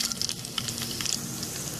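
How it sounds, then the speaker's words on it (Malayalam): Green chillies fry in hot oil with a steady close sizzle and light crackling, dotted with quick pops and stirring, and no voices. "ഇതിലേക്ക് ഇനി പച്ചമുളക് ചേർക്കാം"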